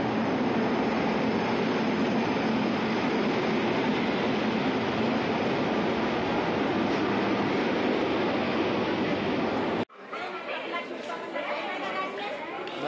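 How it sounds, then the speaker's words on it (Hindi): A passenger train pulls into a busy Indian railway station with a loud, continuous rumbling roar and crowd chatter throughout, then the sound cuts abruptly to quieter platform ambience with voices. "और देखिए फाइनली हमारी ट्रेन भी आ गई है"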